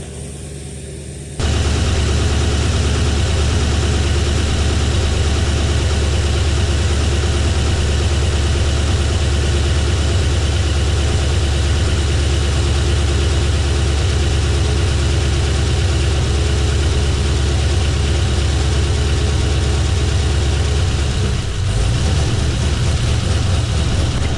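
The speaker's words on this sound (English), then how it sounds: "There's a little valve train noise." A Chevrolet Camaro SS with a new engine idles steadily and close by, with a faint rhythmic ticking from the valve train running through the low rumble.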